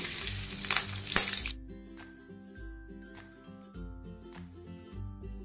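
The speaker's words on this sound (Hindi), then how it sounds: "एबे पकई दबा प्याज।" Chopped onion drops into hot mustard oil with a loud burst of sizzling that quickly settles into a quieter, steady frying hiss, broken by a few soft clinks of a spoon or pan.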